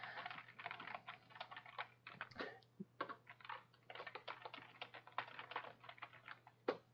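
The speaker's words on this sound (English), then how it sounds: "So if I just quickly type a sentence in here" Rapid, irregular clicking of keys on a computer keyboard, close up and steady, with a faint low hum underneath and no talking.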